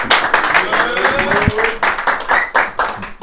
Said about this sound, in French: Genre ça applaudit de manière solennelle